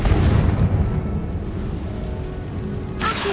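Confringo blasting spell exploding in a Harry Potter video game, a loud, deep boom that rumbles and decays, followed by a sharp crackling burst at the end.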